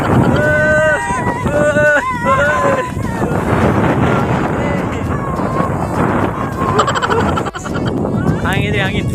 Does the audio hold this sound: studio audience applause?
no